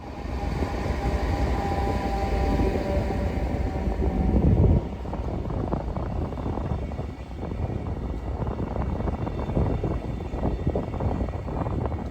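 A train delivering a single new set in cold, wet weather, heard as a steady rolling rumble with wind buffeting that is loudest in the first five seconds and then settles into continuous rattling clatter.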